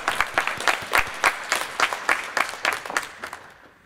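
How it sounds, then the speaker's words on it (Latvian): Rhythmic clapping from a group applauding contestants at an ideas competition event, regular beats about three per second, steady and fairly close, fading slightly at the end. "Aplaudējam Ilzei, aplaudējam Ilzei."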